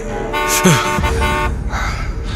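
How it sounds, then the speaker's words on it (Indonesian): A car horn honks fairly loudly from a vehicle waiting behind at a green traffic light in a radio drama, one sustained blare lasting about a second over a low background hum. "mobil di belakangku mengklaksonku cukup keras karena saat itu lampu sudah hijau"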